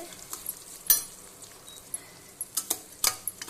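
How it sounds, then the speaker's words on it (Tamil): Onions sauté in a pan for a Tamil pepper jeera rice, with a soft sizzle under irregular, sharp clinks and scrapes of a spoon stirring against the metal. "நல்லா வதங்கிடுச்சு வெங்காயத்தை இதில் போட்டு"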